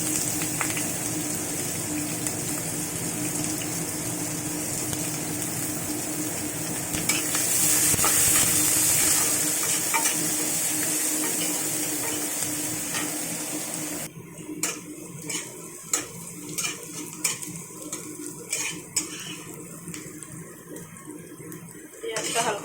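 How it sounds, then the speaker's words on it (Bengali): Onions fry in a pan with steady sizzling and occasional stirring scrapes, close and continuous, with a louder hiss near the middle before quieter clatter and stirring take over. "পেঁয়াজটা হালকা করে ভেজে নিয়েছি।"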